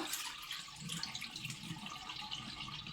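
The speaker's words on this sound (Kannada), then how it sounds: "ಬನ್ನಿ ಇವಾಗ ಕೊರ್ಲೆ ಅಕ್ಕಿನ ತೊಳಿತಾ ಇದ್ದೀನಿ" Browntop millet grains being washed by hand in water, a steady splashing and swishing of liquid with a running-tap quality, close and continuous throughout.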